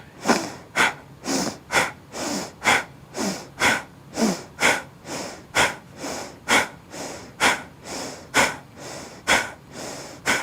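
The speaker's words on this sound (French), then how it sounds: "on expire et on inspire" Rapid rhythmic breathing exercise, forceful exhales and inhales alternating in a steady fast cycle, about sixteen close, loud breaths with no talking.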